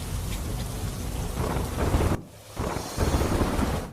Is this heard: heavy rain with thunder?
yes